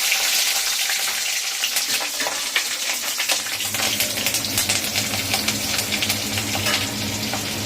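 Green chilies and mustard seeds fry in a pan for a fish curry, with a loud, continuous sizzle and crackle that swells as the chilies go in, close and without talking.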